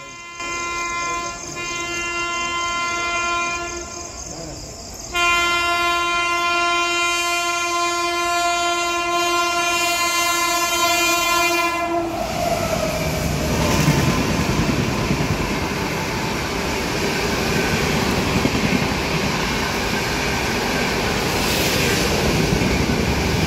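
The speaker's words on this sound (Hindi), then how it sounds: "तो रानी कमलापति रेलवे स्टेशन पे हमारा अराइवल बहुत स्लो हो रहा है" The Secunderabad Duronto Express arrives slowly at Rani Kamlapati station, opening with a long, loud multi-tone horn blast. A steady rumble of rolling wheels and carriages follows.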